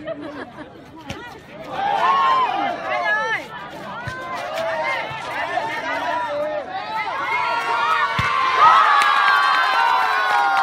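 A crowd at a Vietnamese volleyball match cheers and shouts, with children's voices and excited chatter swelling and rising toward the end, loud and close, while voices call out throughout.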